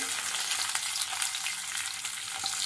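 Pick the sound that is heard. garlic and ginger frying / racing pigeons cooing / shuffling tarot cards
garlic and ginger frying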